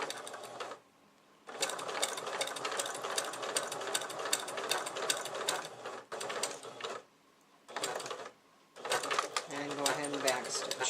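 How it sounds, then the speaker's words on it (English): A sewing machine runs in quick bursts while stitching binding onto a quilt, a rapid close mechanical needle rattle that stops and restarts several times with brief pauses between runs. "go ahead and backstitch to lock it in"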